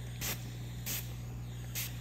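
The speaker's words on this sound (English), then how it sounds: "I heat it up and I spray on my protective flux" A spray bottle mists protective flux onto a heated split-shank ring band during sweat soldering, three short soft hisses at even intervals over a steady low hum.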